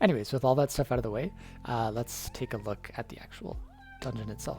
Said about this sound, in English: my cat is like going nuts in the background